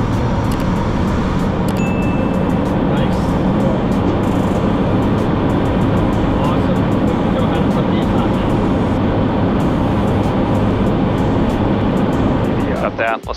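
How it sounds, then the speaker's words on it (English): A Cirrus Vision Jet's turbofan engine runs steadily at close range after its first start, a loud continuous roar and hum that holds through the whole stretch and dips only at the very end. "First jet engine started."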